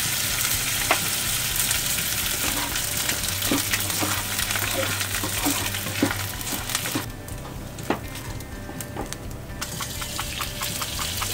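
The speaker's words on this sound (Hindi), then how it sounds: "बाकी गोंद को भी इसी तरह से भून लेंगे।" Edible gum (gond) roasting in a hot pan gives a loud continuous crackle and sizzle with scattered pops and scraping stir noises throughout, the frying easing off somewhat toward the end.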